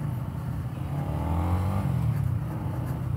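A Honda Winner X motorcycle engine revving up and easing off in a smooth rising and falling drone, close and steady throughout with no talking.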